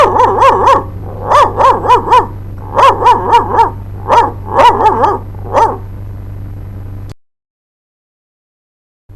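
A man imitates a dog's barking in a rapid series of sharp, yelping barks in uneven clusters over a steady low hum, then falls silent.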